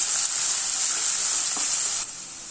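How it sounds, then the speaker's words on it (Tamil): Chopped big onions sauté in hot oil with cumin seeds, giving a steady bright sizzle close up. A stirring scrape comes partway through, and the frying quiets near the end. "இது நல்லா இப்போ வதக்கிக்கலாம்."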